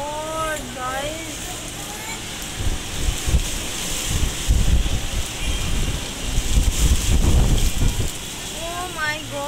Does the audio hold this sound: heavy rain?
yes